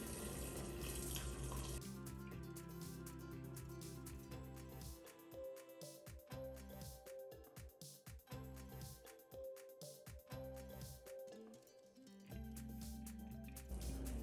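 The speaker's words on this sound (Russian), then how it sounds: "наливайте обязательно кипяток" Boiling water pours steadily over rice in a pot for plov, a loud continuous splashing gush that wavers in strength as the stream shifts, with no talking.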